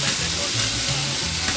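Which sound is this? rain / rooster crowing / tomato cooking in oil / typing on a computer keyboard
tomato cooking in oil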